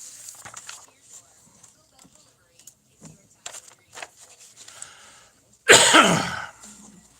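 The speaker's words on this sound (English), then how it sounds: "Your coughs are startling." A burst of harsh, close coughing erupts near the end, loud and rough, after scattered quiet sounds and faint voices.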